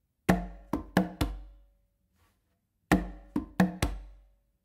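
Hand-played congas run through an up and down beat independence exercise, with two quick bursts of four strokes each mixing sharp slaps and a booming low bass tone, separated by a pause; close, with no talking.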